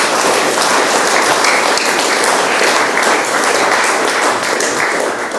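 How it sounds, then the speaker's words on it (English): An audience at a product launch applauds a group of senior school students with sustained, dense clapping that stays loud and even throughout. "what about a big round of applause for the group?"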